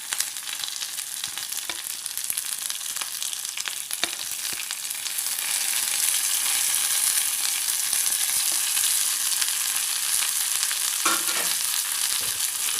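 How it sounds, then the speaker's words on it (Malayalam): Onion, chickpeas and spices fry for a brinjal curry: a steady, close hiss of sizzling oil that grows a little louder midway, broken by faint stirring scrapes, with no talking. "എല്ലാവരും ഇട്ടിട്ട് നന്നായി ഫ്രൈ ചെയ്തെടുക്കുക."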